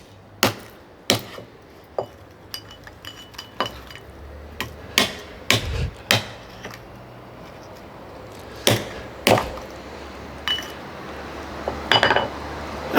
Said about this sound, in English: So that was smashing a really fake AP